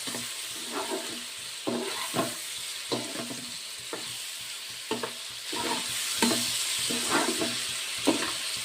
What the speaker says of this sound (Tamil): தக்காளி எல்லாம் நல்லா வதக்குவோம்.